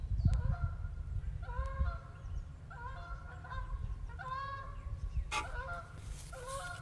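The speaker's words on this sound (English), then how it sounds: "Old geese." Geese honk repeatedly beside a carp and bream fishing spot, a series of nasal calls in bursts over steady low background rumble, moderately near.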